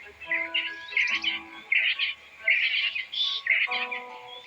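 Birds call at a waterhole in South Africa, with repeated bright chirps and short tonal whistles rising and falling in quick bursts, fairly close and clear against a quiet background.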